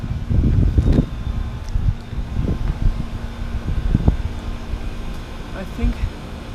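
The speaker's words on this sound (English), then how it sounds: "Yeah, these have reciprocating compressors." A reciprocating refrigeration compressor runs with a steady low mechanical hum and drone, under intermittent thumps and close handling noise, with people talking nearby.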